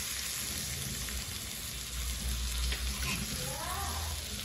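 Surmai (kingfish) fries in a pan as a continuous, even sizzle of hot oil, with a faint voice briefly under it toward the end.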